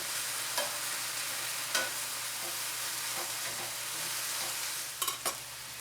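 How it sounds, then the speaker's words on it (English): Apple pieces, pretreated with lemon juice, fry in a hot pan, giving a steady, close sizzle and crackle with a few sharper pops and stirring scrapes. No one speaks over it. "So when the sizzling starts to die down, I'm going to add my apple."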